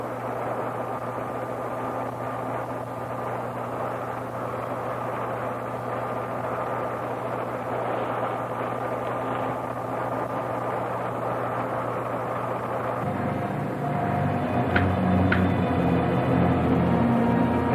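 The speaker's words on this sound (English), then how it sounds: "Ready for blast-off." Rocket blast-off in a retro sci-fi film: a steady, dense roar runs throughout, then swells into a heavier, louder deep rumble over the last few seconds.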